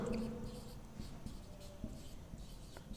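Chalk or marker strokes writing a word on a classroom board, a few short scratchy rubs in quick succession, faint and close.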